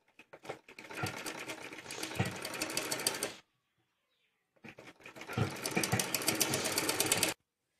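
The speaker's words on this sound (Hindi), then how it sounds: "बाहर की तरफ से उल्टा है, इसमें हम सिलाई लगा लेंगे यहाँ।" A sewing machine stitches fabric for a frilled baby top, running in two steady bursts of fast, even needle clatter about three seconds each, separated by a short silence, close and loud with no talking.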